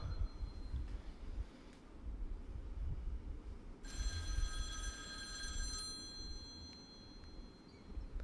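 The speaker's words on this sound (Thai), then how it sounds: "สียงโทรศัพท์เข้า" A telephone rings inside the Devil May Cry 3 video game, a steady electronic trill of bright tones that enters partway through over a low rumbling game background, with no talking.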